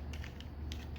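Plastic creaking and clicking as the foot of a Transformers Legacy Evolution Metalhawk toy is folded in, a short run of close ratcheting clicks over a steady low background hum.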